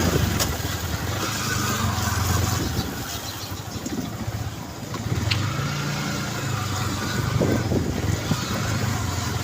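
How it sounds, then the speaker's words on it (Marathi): A vehicle engine while driving on a Sunday trip toward Masjid Bandar, a steady mid-pitched drone that dips slightly and surges again, heard from inside with no talking. "त्यामुळे मी गाडी घेतली आहे, गाडीने जातो आहे"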